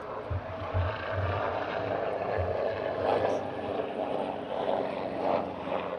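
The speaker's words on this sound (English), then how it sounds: "Oh, it's the hospital helicopter." A hospital helicopter passes overhead as a steady, broad rotor rumble that holds at a fairly even loudness throughout, with a few low thumping pulses near the start.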